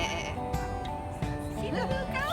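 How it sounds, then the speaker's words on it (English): A baby goat bleats nearby, wavering cries that rise and fall over a steady background of other noise, with one sharper bleat near the end. "See the little goat?"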